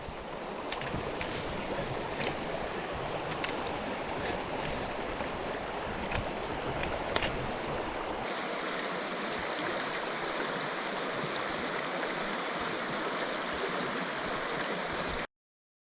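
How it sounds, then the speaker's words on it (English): River water rushing steadily at a hiking-trail river crossing in the mountains, a continuous broadband wash heard close up with no talking. "All right, second to last river crossing."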